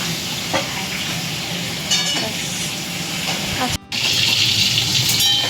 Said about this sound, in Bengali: মাছ ভাজা হচ্ছে, চলুন আপনাদের দেখাই।